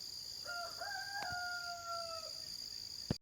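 A rooster crows once in a clear, drawn-out call at moderate distance over steady background hum, followed by a brief sharp knock at the end.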